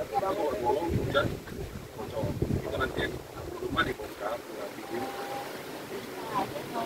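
Strong wind gusts buffet the microphone on Gunung Kencana mountain, a steady roaring rumble with irregular surges, close and loud, under intermittent voices.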